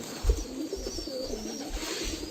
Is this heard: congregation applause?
no